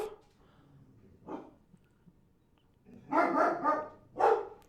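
Dogs barking indoors, nearby: one short bark, a pause, then a cluster of loud barks and one more close bark.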